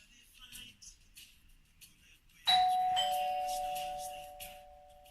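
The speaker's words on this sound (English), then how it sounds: "The notification outlines the type of notification, i.e. doorbell," A doorbell chimes once, a bright two-tone ding-dong that rings out and slowly fades over faint background music.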